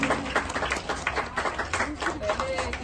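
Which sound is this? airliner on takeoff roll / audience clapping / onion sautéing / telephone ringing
audience clapping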